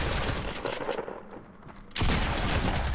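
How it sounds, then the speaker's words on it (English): Turret firing in the video game Fortnite, rapid loud bursts of automatic fire that dip briefly around one to two seconds, then resume at full, dense intensity. "Oh my god, he has a turret."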